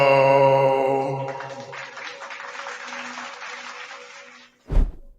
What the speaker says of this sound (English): You get a nice little applause every time